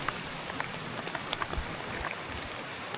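Heavy rain falls steadily, a dense broadband hiss with scattered nearby drop patters and a few low thumps, no voices.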